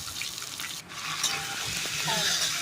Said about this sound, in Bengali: তাতে আলু সিদ্ধগুলো দিয়ে কিছুটা আলুটা নেড়ে নেবো